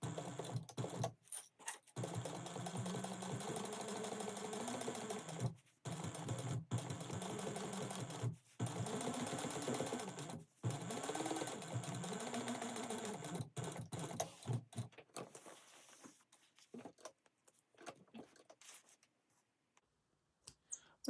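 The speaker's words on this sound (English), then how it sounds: "go ahead and top stitch that at a 1/8 inch seam allowance" A sewing machine topstitches a fabric seam at a 1/8 inch seam allowance, running in steady whirring stretches broken by short pauses, then thinning into scattered stops and starts toward the end.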